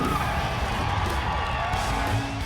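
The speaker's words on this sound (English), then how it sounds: "sending the crowd into a frenzy" A roaring crowd cheers loudly at a burnout car competition at Perth Motorplex, whoops and yells blending into a dense, sustained wash of noise with engine rumble beneath.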